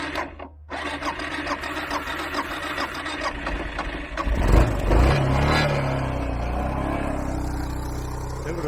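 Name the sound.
adventure motorcycle engine starting with aerosol deodorant help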